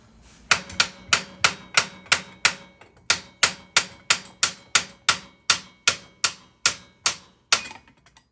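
Steel hammer tapping on the steering knuckle of a Polaris RZR Turbo during front wheel bearing replacement, about twenty sharp, close metallic taps in a steady, even rhythm with no talk.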